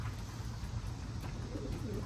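Racing pigeons coo softly and continuously among a flock gathered for a practice toss, low murmuring calls steady throughout under faint outdoor background noise.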